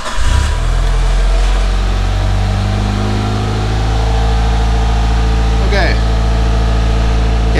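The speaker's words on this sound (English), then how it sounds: "Okay, so the car is running." Mitsubishi Evolution 6 engine cranking and catching, then settling into a steady, loud, close idle with a deep rumble that holds evenly throughout, a voice speaking over it.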